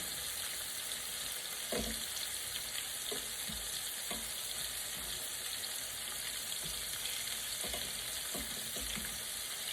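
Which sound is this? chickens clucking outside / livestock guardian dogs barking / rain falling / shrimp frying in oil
shrimp frying in oil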